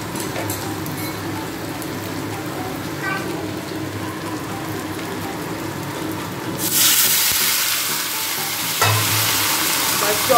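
Spices sizzle in a hot pan with cumin powder stirred in, as a Bengali home cook prepares fish-head muri ghonto. A steady hiss flares into a louder, brighter sizzle partway through.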